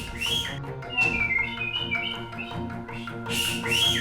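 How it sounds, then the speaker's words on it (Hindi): A whistle is blown angrily in a TV drama scene: shrill, sliding blasts in short bursts, loud and close, over background music. "गुस्से में क्यों सीटी बजा रही है?"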